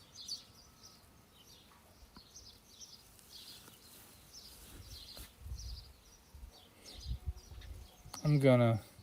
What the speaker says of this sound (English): I live in the countryside, and there are still chickens, little birds.